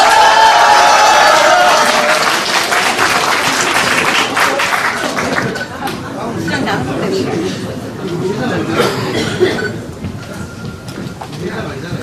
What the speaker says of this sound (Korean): 다시 한 번 더 큰 박수 부탁드리겠습니다.